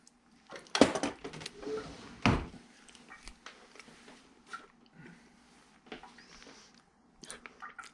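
Chewing on dehydrated watermelon or pineapple: a few crisp bites followed by quieter irregular munching, close and faint, with small handling noises.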